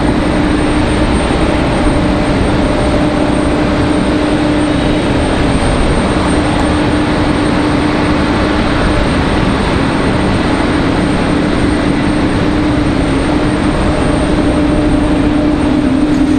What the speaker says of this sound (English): Got a Delta A220, that's what you're hearing right now.